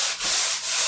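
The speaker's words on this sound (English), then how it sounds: "if you're sanding something that's stained wood, you always go with the wood grain" Hand sanding stained wood along the grain: two long rasping strokes, close and fairly loud, back and forth with a short pause between them.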